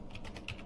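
Quick typing on a computer keyboard, a rapid run of light clicking keystrokes heard up close and on their own.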